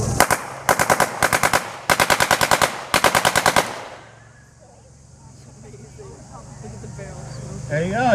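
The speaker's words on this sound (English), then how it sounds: "he's going to fire the MP40" MP40 submachine gun firing several short automatic bursts outdoors at a weapons demonstration, loud and sharp with brief gaps, then fading into quiet ambient noise and distant murmur.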